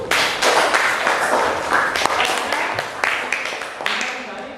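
Students in a classroom discussion session applaud group 1, loud, close, uneven clapping from a modest group, with voices mixed in among the claps.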